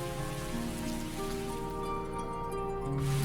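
Steady rain pattering on a surface in the role-playing game Tales of Graces f, a constant soft hiss of drops under sustained musical tones, with no voices.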